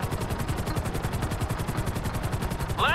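Rapid automatic gunfire comes from a helicopter in the GTA V video game, loud and continuous in fast regular bursts over a rotor drone, with a brief rising whine near the end.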